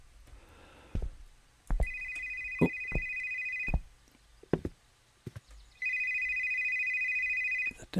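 A mobile phone in the game Exanimum rings twice in repeated electronic trills, loud and clear, with footsteps and thuds in between and a brief exclamation.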